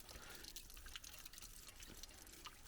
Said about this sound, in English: It's all starting to run off from the barn roof.